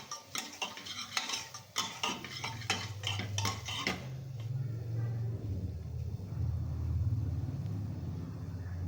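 Ginger and garlic paste stirred in a pot for Maharashtrian clear mutton soup: brisk metallic clinks and scrapes of a spoon against the pot in quick succession, then a low rumble with faint sizzling.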